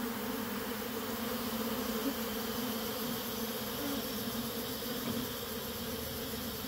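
A honeybee colony hums steadily around yellow wax comb, a dense, continuous close-range buzz that holds even throughout with no voices.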